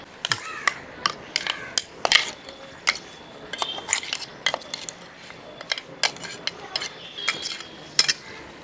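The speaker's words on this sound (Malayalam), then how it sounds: "ഈ ഗ്രേവി നമ്മൾ ഈ വരച്ച് വെച്ചിരിക്കുന്ന കരിമീൻ്റെ അകത്തോട്ട് ഇട്ട് കൊടുക്കുകയാണ്" A spoon clinks against a pan and plate as gravy is ladled into scored pearl spot (karimeen) fish, a run of close, light metallic taps and scrapes at an uneven rhythm with no talking.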